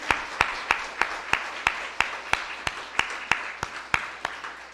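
A church congregation joins in on a short burst of rhythmic unison clapping. It is a steady series of sharp, evenly spaced claps with a soft crowd wash beneath and no speech.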